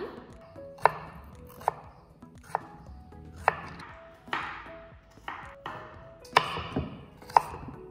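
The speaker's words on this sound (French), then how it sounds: "Une fois que notre concombre est vidé, on va commencer à le couper en tout petits potés." A knife chopping cucumber into small cubes on a cutting board, a run of sharp, close knocks in an uneven rhythm of roughly one to two per second, with no talking.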